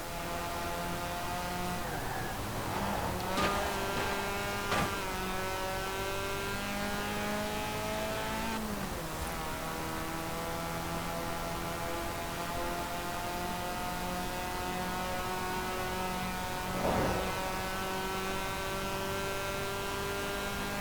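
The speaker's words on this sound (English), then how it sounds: "it's your typical Wankel rotary engine kind of sound, high revving" A 1990 Mazda Savanna RX-7's Wankel rotary engine in Forza Horizon 4 hums steadily at a high, buzzy pitch, with a few brief surges as the revs climb and fall, heard close up and alone.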